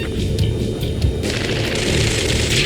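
Gunfire and explosions crackle in Ace Combat 7: Skies Unknown on PC during a rescue mission. Dense, repeated bangs and booms pile up in a continuous barrage.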